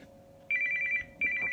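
A telephone rings indoors in two loud electronic bursts of trilling tones, a short gap between them, with no talk over it.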